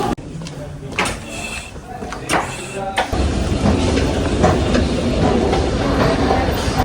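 Train running through a station in Spain, a steady rolling rumble that swells loud and continuous after a few seconds of quieter, clattering movement.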